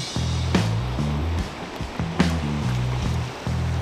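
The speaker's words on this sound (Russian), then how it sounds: "Горная река" The Charysh mountain river in Altai rushing steadily, a loud continuous broadband wash of flowing water with a low tonal hum and occasional knocks riding over it.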